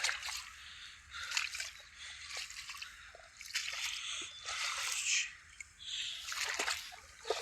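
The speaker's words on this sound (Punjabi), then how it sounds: "ਮੋਟਰ ਦਾ ਪਾਣੀ ਪਈ ਜਾਂਦਾ ਦੇਖ" Water from a pump motor splashes and gushes unevenly from a pipe outlet, close by, in surging bursts with brief dips, no talking.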